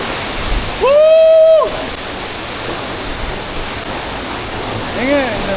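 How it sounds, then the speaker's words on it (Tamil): The Keralamkundu waterfall in Malappuram roars as a constant loud rush of falling water, while a voice briefly exclaims over it twice. "என் வாழ்க்கையில இவ்வளோ சூப்பரான ஃபால்ஸ் நான் பார்த்ததே இல்லை."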